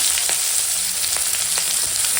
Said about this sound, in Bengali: মাছ ভাজার তেলে দিয়ে দিলাম পেঁয়াজ